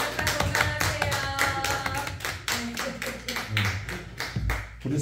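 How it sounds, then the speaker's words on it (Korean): Church members clap together for their elders in a festive round of applause, brisk hand claps close by and fairly loud, with faint voices mixed in. "자, 우리 어르신들 박수."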